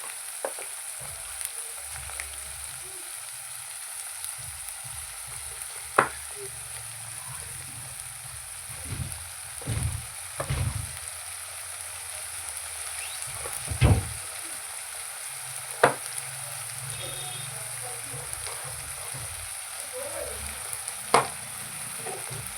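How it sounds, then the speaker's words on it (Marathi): Tomatoes frying in a pan over a high gas flame until red, a soft continuous sizzle with scattered spatula scrapes and taps, no talking. "हे व्यवस्थित लाल होईपर्यंत भाजायचं आहे"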